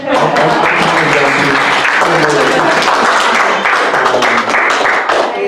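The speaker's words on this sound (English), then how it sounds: "It's okay, we can clap." A congregation at a prayer vigil breaks into steady, loud clapping, blended with voices and tonal sound throughout.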